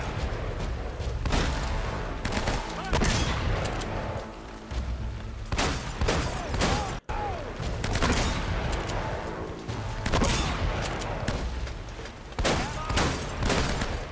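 Rapid bursts of enemy gunfire in Uncharted: Drake's Fortune, loud and close, with repeated shots and brief pauses between volleys over a constant background of game ambience.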